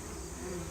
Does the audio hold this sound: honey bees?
yes